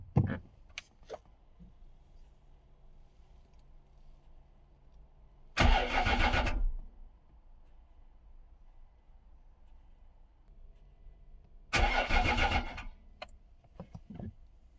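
A cheap Jaguar XF with a faulty gear selector cranks and starts in two separate loud bursts, each catching briefly before the engine cuts off, with a low idle-like hum and a few clicks in between.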